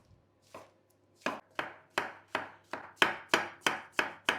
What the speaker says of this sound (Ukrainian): Тепер потрібно 250 грам печериць. Нарізаємо їх також кубиком.